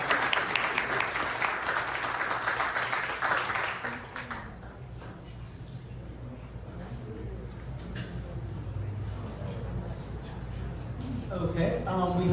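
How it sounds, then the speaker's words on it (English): Applause from attendees at an LA City Charter Reform Commission meeting for a representative, brisk clapping that fades after a few seconds into quieter room noise with voices and shuffling, speech returning at the end. "All right, let's give a round of applause for Representative."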